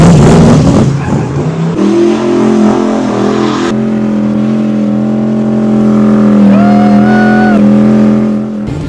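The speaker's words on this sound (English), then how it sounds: "This basically was a motor that they pulled out of one of their race cars. And it's loud." Restored classic car fitted with an engine pulled from a race car, accelerating hard and very loud up close, the roaring note climbing through the gears with a sustained rising whine.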